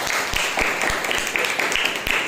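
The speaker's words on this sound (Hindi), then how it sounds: "एक जोरदार ताली बजाइए।" A church congregation at a Sunday service bursts into a short round of loud, dense clapping, a quick rhythmic patter of many hands that stays close and strong for the whole moment, with a voice faintly mixed in.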